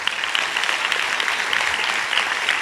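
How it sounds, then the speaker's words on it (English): Audience applause at an international peace lecture, loud even clapping from a large crowd sustained throughout. "A round of applause, Oleksandra."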